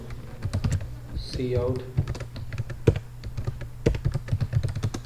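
Keys clack on a computer keyboard while C++ code is typed, quick irregular taps at close range, mixed with someone speaking over them.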